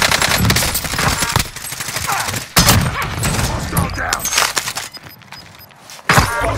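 Dense gunfire rattles through a battle royale video game match, with rapid bursts and sharp impacts close and loud, while a player talks excitedly over the shooting.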